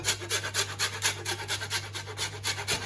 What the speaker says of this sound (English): And then into that we're going to add the zest of a lemon